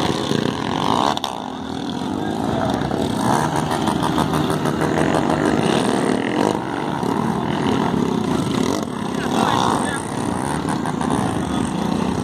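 Motorcycle engine at a muddy off-road event, running steadily loud throughout with rough revving and dragging as the bike slides sideways, while voices talk over it.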